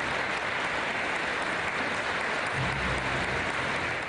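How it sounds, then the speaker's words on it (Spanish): Sustained, dense applause from mourners at a funeral tribute and memorial mass in Ecuador, steady and moderately loud throughout with no voices standing out. "luego los aplausos con que los asistentes homenajearon a Trujillo"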